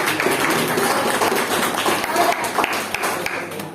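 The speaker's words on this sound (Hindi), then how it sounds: "भाई इससे तो जोरदार ताली बननी चाहिए ना।" Audience applause at a stage event: dense, steady clapping from many hands, loud and continuous, with scattered sharp claps standing out throughout.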